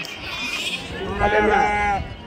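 Sheep bleat close by at a busy sheep market, a wavering cry rising over constant crowd chatter and bustle, with people talking throughout.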